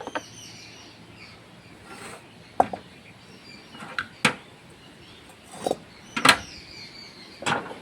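A metal wok set onto a gas stove in a home kitchen while pickle is being made: a few sharp, isolated clanks and knocks spread over several seconds against a quiet background.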